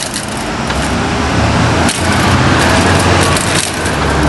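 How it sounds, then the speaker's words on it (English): A car drives down Wilshire Boulevard, its steady broadband road and engine rumble loud and continuous throughout, with a brief dip and a sharp crack near the two-second mark. "So I'm driving down Wilshire Boulevard."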